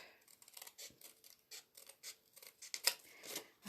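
Scissors snip through craft material for a treat holder in a quick, irregular series of close, crisp cuts, with brief pauses between strokes and no talking.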